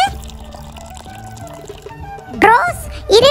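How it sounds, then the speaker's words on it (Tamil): A pot of water is poured out in short splashing gushes, close and loud, over a background of children's play and talk. "உனக்கு 1 குடம் தண்ணி ஊத்துறேன்."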